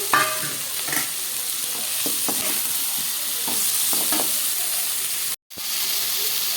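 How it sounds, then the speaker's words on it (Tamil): Raw mango pieces sauté in a pan with tomato in a continuous crackling sizzle and repeated scraping stir strokes, close and fairly loud, with one brief dropout near the end and no talk. "மாங்காய் நல்லா வணக்கிக்கலாம்"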